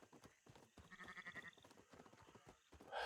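A sheep bleats in a roleplay video game, a short series of faint, wavering calls with soft footstep-like clopping between them, heard alone without talk.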